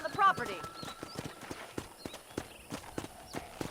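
Horse hooves clip-clopping in Red Dead Redemption on PS5, a steady walking rhythm of close, crisp hoof strikes, with a brief snort near the start and faint game ambience behind.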